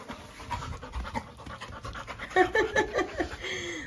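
A dog pants rapidly and steadily after a bath, close by, with quick rhythmic breaths that grow louder toward the end, faint voices in the background.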